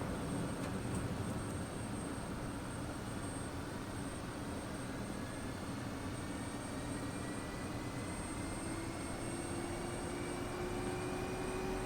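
An F-16C jet engine spools up in the DCS flight simulator game, a steady roar with a high whine that slowly rises in pitch throughout, heard alone and without talk.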